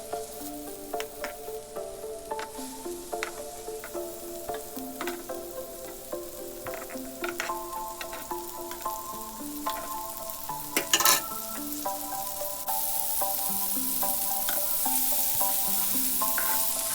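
A kebab sizzles and fries in a pan with a constant bright crackle. Quiet clinks and pops come through it, and the sizzle grows louder and hissier toward the end. No speech.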